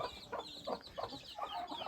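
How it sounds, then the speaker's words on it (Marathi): Chickens cluck in a coop on a Konkan farm on a rainy morning, a series of short repeated clucks at steady intervals, fairly close and moderately loud over a soft background hiss. "तर बघा इकडे वाट बघतो कोंबडी"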